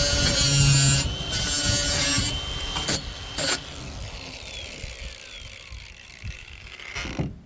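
Saw cutting through a steel truck exhaust pipe on a 2014 Ram during a catalytic converter delete, a loud rasping burst at first, then several shorter grinding strokes that fade toward the end, close by with no talk.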